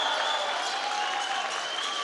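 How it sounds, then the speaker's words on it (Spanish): An audience at the inauguration of the Hospital General de Atenco applauds the president, a continuous even roar of many clapping hands with a faint tonal hum running beneath it. "a dar un fuerte aplauso a nuestra presidenta de la República"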